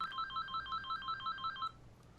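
A phone ringtone plays in the video game Angels With Scaly Wings as a quick, rhythmic electronic trill repeated about eight times, fairly quiet, then stops.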